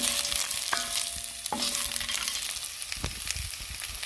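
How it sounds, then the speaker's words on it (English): Fideo noodles brown in a Dutch oven under gentle stirring: a soft constant sizzle with a few scraping strokes of the spoon against the pot, close and fairly quiet, with no talking. "I'm stirring it because I want it to brown, but I don't want it to burn."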